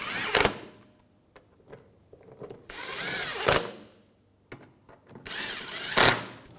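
A power tool tightens bolts on a starter on a 2011–2018 Volkswagen Jetta, giving three short bursts of whirring, each ending in a sharp click, with quiet pauses between, close up and without talking.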